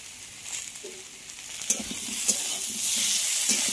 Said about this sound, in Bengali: টমেটো গলা অবধি ভালো করে ভেজে নিতে হবে